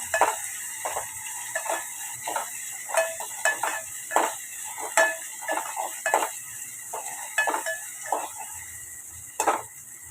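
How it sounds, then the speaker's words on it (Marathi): Onions sautéing in oil in a pan over high gas, a faint steady sizzle broken by frequent sharp clicks and scrapes of a spatula against the pan, near and irregular. "थोडा मी गॅस फास्ट केला आहे कांदा परतण्यासाठी."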